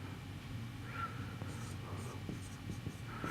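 A pen scratches out an equation by hand during a lecture on the inverse Z transform, giving short, soft strokes and taps over a low room hum, with no voice heard.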